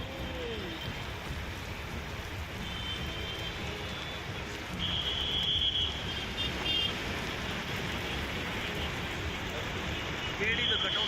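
Heavy evening rain pours down on a city street in Bengaluru, a dense, steady hiss that swells slightly midway, with faint traffic and a few distant tones beneath.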